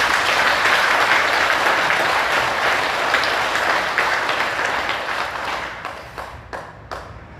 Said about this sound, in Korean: 그분들의 명복을 비는 박수 한번 보내주세요.